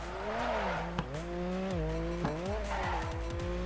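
A Mazda RX-7 FD in the Torque Drift game drifts on deep-dish five-spoke wheels, its engine droning and shifting pitch steadily while the tires squeal continuously, with a couple of brief clunks.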